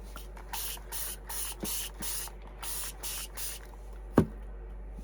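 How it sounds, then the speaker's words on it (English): Repeated short bursts of a water spray bottle misting a cardboard layer, about eight even squirts in a steady rhythm, close and crisp, followed by a single sharp knock near the end. "So I'm going to spray this top layer with water so I can peel it off."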